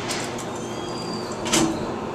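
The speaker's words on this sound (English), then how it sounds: "Doors closing." Dover elevator doors at The Westchester mall in White Plains, NY slide shut with a soft mechanical rumble, a faint chime and a brief thump near the end, set against steady indoor background noise.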